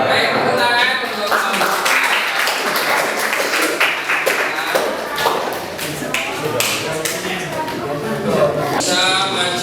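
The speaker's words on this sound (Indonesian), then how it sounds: "tepuk tangan untuk" A small group claps hands at a university class presentation session, a run of scattered, uneven claps with some voices mixed in.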